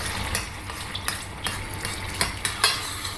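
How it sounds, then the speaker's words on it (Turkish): A spoon stirs sautéed tomato paste thinned with half a glass of water into a loose sauce in a pan, giving soft, repeated scrapes and clinks over a faint sizzle. "salçama yarım su bardağı su ilave ediyorum ve salçayı güzelce açık sos haline getiriyorum"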